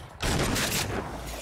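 Gunfire from the video game Agents of Mayhem sets off as a dense, loud burst of shooting after a brief quiet moment at the start, then stays in a sustained roar of rapid fire to the end.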